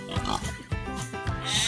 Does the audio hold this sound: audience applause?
no